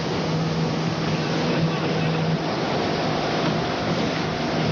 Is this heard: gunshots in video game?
no